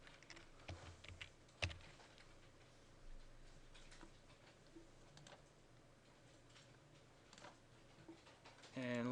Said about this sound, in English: So let's type in Planarsrf.